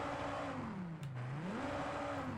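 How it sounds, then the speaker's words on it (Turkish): An abandoned Ford Mustang's stock engine starting in Forza Horizon 5 revs up, dips and climbs again in a smooth rising-falling whine, fairly faint and alone. "Bakın arabayı çalıştırdık. Ay arabanın stok sesi çok güzel."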